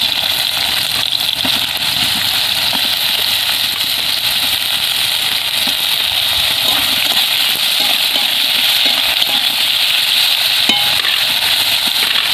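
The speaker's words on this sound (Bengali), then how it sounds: "তো ওই তেলের মধ্যে ঝিঙেগুলো দিয়ে লাল লাল করে ভেজে নেব।" Pieces of ridge gourd frying in hot oil give a continuous, fairly loud hiss that holds steady throughout, with no voices over it.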